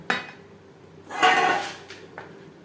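Bhetki fish bones being stirred into gravy in a cooking pan: a few scattered metallic scrapes and clinks of a utensil against the pan, soft and close, with a longer scraping stir in the middle.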